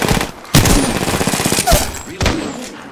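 Rapid automatic gunfire in Apex Legends rattles out in dense, continuous bursts, loud and close, with brief pauses between volleys.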